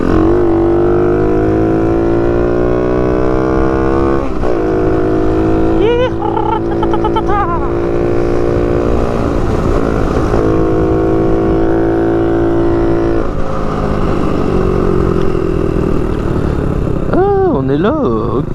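A motorcycle engine revs hard during wheelies, its loud droning pitch climbing and falling in repeated sweeps with short throttle blips, close and continuous throughout.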